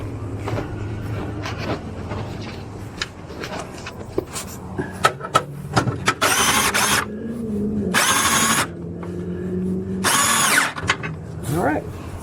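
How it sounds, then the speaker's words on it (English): A power drill cranks down RV stabilizer jacks at a campground, with bursts of loud whirring separated by pauses, clicks and handling clatter, close to the recorder. "but the drill makes it a lot easier"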